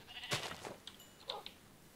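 Sheep bleating in the Minecraft mod Better Than Wolves, a faint game sound with one main bleat followed by a shorter second call.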